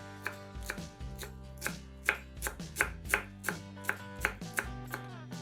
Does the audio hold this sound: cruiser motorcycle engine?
no